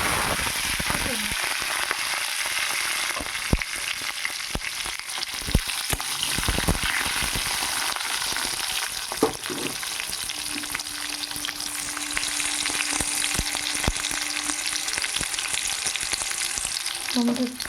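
Tomato frying in hot oil with five-spice seeds and dried red chillies, a steady dense sizzle with occasional stirring clatter from a spatula, continuous and close throughout.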